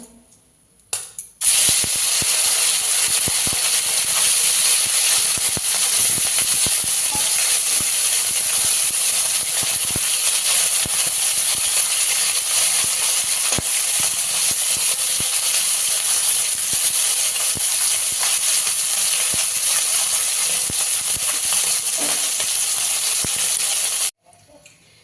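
Small fish frying in hot oil for a village-style Bengali fish dish, a loud, steady, close hiss and sizzle that runs unbroken for nearly the whole stretch, then stops abruptly at the end.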